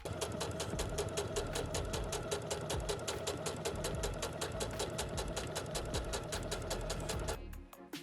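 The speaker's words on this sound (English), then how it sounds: "So we're gonna go on this edge and sew a 5/8 inch seam on the edge." A sewing machine sews a 5/8 inch seam along a fabric edge with a fast, steady mechanical needle rhythm that runs close and unbroken for about seven seconds before stopping abruptly.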